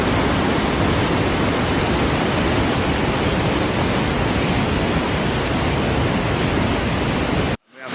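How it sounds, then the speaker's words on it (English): Loud, constant roar of a waterfall in England's Lake District in winter, a dense rushing wash of water filling the whole clip before cutting off abruptly at the end. "We'll show you this waterfall now."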